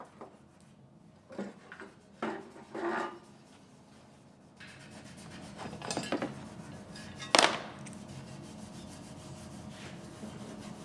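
Hand wrench working bolts on a 2018 Ford Explorer Limited AWD under collision repair, giving scattered metallic clinks and rubbing scrapes, with a sharper ratcheting burst near the end, close and fairly quiet.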